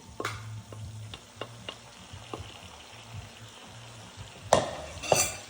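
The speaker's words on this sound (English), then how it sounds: "we're going to take all those veggies that we sauteed and set aside. We're going to mix them in." Sautéed vegetables being stirred into sausage in a hot pan for Creole beans and rice, a low sizzle punctuated by repeated scraping strokes and a couple of louder clanks of the utensil on the pan.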